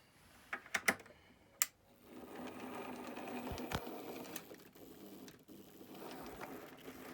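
An N gauge model train runs on a model railway layout, a soft continuous mechanical whir and ticking with a few sharp clicks at the start, moderately faint and close, with no talk.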